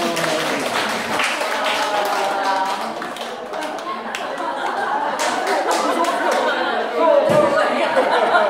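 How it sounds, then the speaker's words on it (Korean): Teachers at a training session at Yatap Middle School in Gyeonggi-do clap for several seconds, a dense patter of hands mixed with chatter and light laughter in the room. "박수 주세요"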